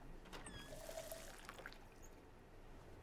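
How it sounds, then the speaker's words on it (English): Water pouring into a mug in the video game Twelve Minutes, a short quiet trickle and gurgle with no talking. "Let's get some water."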